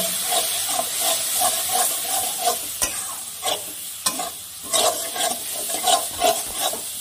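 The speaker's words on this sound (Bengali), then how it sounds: "এবার মশলাটাকে ভালো করে কষিয়ে নিব" Turmeric and chili powder masala is stir-fried in a hot pan, giving a loud, steady sizzle and hiss broken by frequent close scraping strokes of a spatula stirring the mix.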